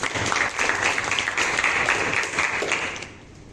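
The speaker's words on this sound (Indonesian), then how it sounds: "tepuk tangan buat Imam." Audience applause in a school classroom setting, a steady wash of many hands clapping together for about three seconds before fading out at the end.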